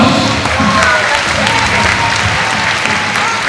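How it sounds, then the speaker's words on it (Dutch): A crowd at an outdoor public homage celebration for Irene Schouten claps steadily and loudly, a dense continuous patter of many hands with faint voices mixed in. "Applaus!"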